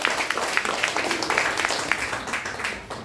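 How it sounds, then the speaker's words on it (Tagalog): A church congregation clapping hands loudly in praise, a thick, continuous burst of many hands close by, with faint voices mixed in. "Palakpakan natin ang Panginoon, pinakamalakas na palakpak."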